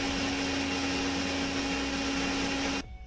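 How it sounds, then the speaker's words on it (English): An electric mixer whisks eggless plum cake batter with a steady, loud motor whir that continues without a break and cuts off sharply just before the end. "So whisk this till it become a light and fluffy."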